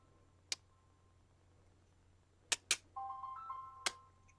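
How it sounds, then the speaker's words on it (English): A phone ringing during a quiet gelli plate monoprinting session, with a few sharp clicks and then a short, faint electronic ring tone, alone without talk. "And of course, my phone would ring."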